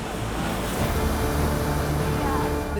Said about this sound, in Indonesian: Besarnya deburan ombak yang menghantam menambah suasana tegang di pantai ini.